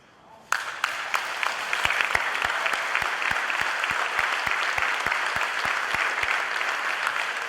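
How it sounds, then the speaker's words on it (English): Audience applause fills an awards night hall, starting abruptly after a quiet moment and continuing as steady, dense clapping with a few sharp, distinct claps standing out near the front. "So let's give him a round of applause again."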